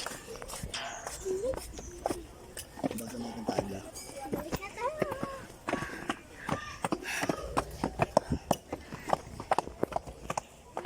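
Hooves clip-clop in an uneven rhythm as several horses walk nearby, with people talking over them.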